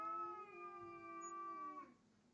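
A cat lets out a single drawn-out, rising-and-falling caterwauling yowl during a standoff between a black kitten and an orange cat, heard close and alone for about two seconds before it cuts off.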